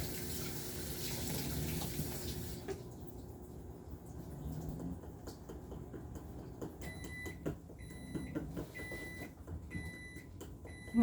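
Tap water runs in a home kitchen during Halloween treat-making, a loud broadband rush for the first few seconds that then drops to a quieter trickle with faint background clatter.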